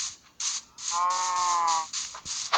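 Cows moo in a farming video game, two drawn-out lowing calls in quick succession, loud and close with no talk.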